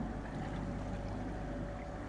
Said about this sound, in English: It's a very quiet engine. It's a lovely engine, that is, for Johnson.